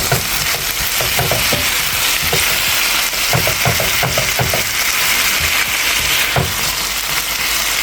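Stir fry with teriyaki stir fry sauce and dark soy sauce sizzles steadily in a pan, a constant loud frying hiss broken by clinks and scrapes of stirring, with no talking.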